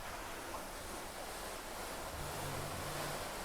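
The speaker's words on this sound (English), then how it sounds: "While I ramble, you can listen to the Atlantic Ocean." Steady wash of Atlantic Ocean surf, a constant soft roar of waves with some wind rumble, fairly quiet and unbroken, with no voices.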